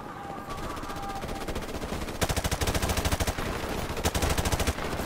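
Call of Duty Modern Warfare Remastered campaign gunfire: a short single shot, then loud, rapid automatic bursts rattling close and continuously, with a brief break before another burst.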